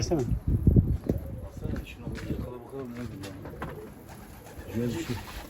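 A red Bonjili pigeon coos in low, throaty bursts close by, repeating several times, with a person talking over it.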